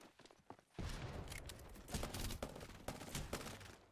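Gunfire in a video game shootout, with a few isolated shots opening into a dense, continuous barrage of rapid cracks and bursts that stays loud to the end.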